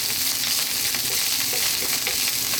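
Mushroom fried rice fries hard in a hot pan, giving a loud, dense, continuous crackling sizzle close up, with no voices over it.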